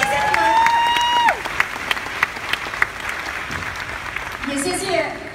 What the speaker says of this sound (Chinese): 我们再次把热烈掌声给到这所有的如今的管理层，好不好？